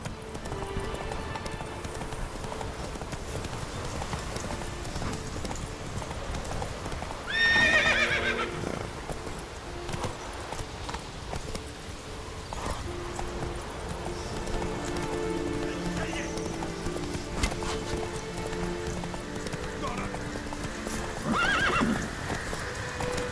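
Horse hooves clip-clopping at a steady gallop in The Witcher 3, with a loud whinny partway through and another neigh near the end, while voices talk over the ride.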